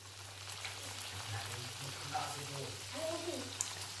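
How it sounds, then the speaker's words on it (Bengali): A chicken spring roll deep-fries in hot refined oil with a steady, close, crackling sizzle that continues throughout, while a faint voice is heard in the background. "তেল গরম হয়ে গেছে, এখন আমি এর মধ্যে ছেড়ে দিচ্ছি একটা স্প্রিং রোল।"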